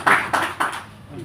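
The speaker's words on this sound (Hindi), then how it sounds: "मैं चाहता हूँ एक बार वीरसेन साहब के लिए जोरदार तालियां" Brief bursts of clapping at a Hindi stage programme, three quick swells of applause from a crowd, fairly close, fading out after about a second.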